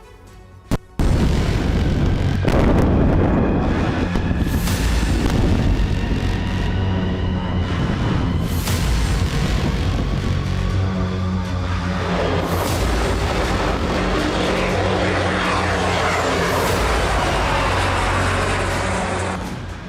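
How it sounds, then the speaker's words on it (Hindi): Bunker buster bombs explode in a series of heavy, rumbling booms, one sharp blast followed by a long, continuous roar with repeated thuds and a lingering low rumble. "जमीन के भीतर 30 फीट नीचे तक कई धमाके हुए।"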